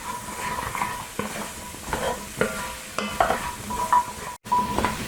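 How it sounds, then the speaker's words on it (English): Butternut squash with ginger sautéing in a pan: a steady sizzle with repeated scrapes and knocks of a utensil stirring against the pan, close and fairly loud, no talking. "we're going to go ahead and add our butternut squash, and we're going to saute this for about a minute"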